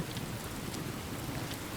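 Steady pouring rain in the video game Enshrouded, a dense, even wash of drops hitting surfaces, heard alone at moderate level with no talk.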